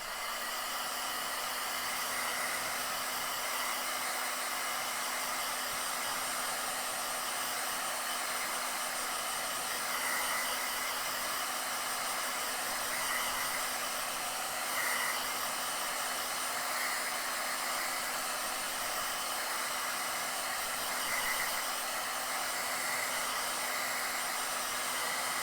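A hair dryer blows steadily and loudly for the whole stretch, a constant whooshing hum used to dry paint on sculpted mushrooms, with no talk.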